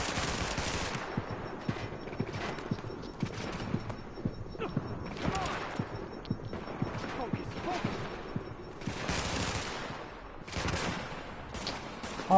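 Rapid gunfire crackles through a firefight in the video game The Division, dense overlapping bursts and single shots running almost without pause at steady loudness, with faint voices underneath.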